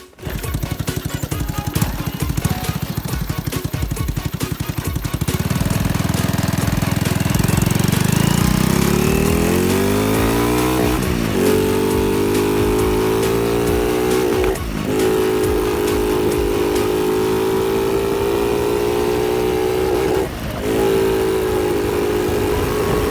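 A Honda Wave 110i motorcycle engine on a test ride, loud and close, revving up through rising gears with brief dips between shifts and a steady buzzing drone throughout.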